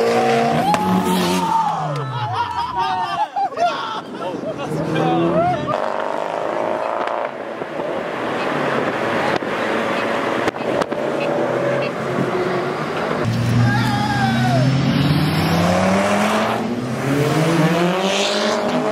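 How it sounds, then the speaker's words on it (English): Cars rush past one after another on a busy street, engines swelling and fading up close, with people talking over the traffic. "we just hear too many cars going by"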